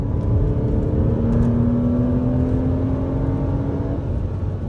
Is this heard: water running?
no